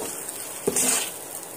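Semolina sweet frying in ghee in a kadai is stirred, a close, steady sizzle with a quick scraping stroke of the spoon, brief and without talk.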